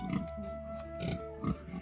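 Pigs at a local pig farm in Assam give several close, low grunts in short bursts over a steady background hum.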